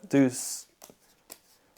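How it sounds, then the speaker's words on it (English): Playing cards being shuffled and mixed by hand during a card trick, a brief riffling burst followed by softer scattered shuffling sounds, with a voice speaking at the start. "you can shuffle yours. I'm just going to mix mine up a little bit."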